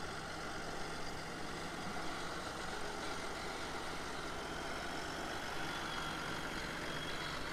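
A farm tractor idles with a steady low, even rumble, heard outdoors and at some distance, with no talking.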